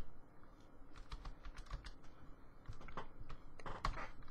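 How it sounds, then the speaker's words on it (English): Quick, irregular clicking of keys being touch-typed on a computer keyboard, close and fairly quiet, with bursts of keystrokes and short gaps, no voices. "Right, let's try touch typing again."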